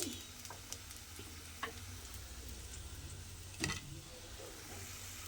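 Prawn-head fritters (chingri macher mathar bora) frying in oil, a faint steady sizzle with a few soft clicks and taps of a utensil lifting them out.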